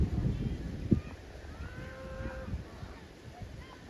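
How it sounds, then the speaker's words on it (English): Cows in a paddock give a drawn-out bawl partway through, faint and somewhat distant, with wind rumble and low handling noise around it and no clear talk. "you can just about hear the cows bawling"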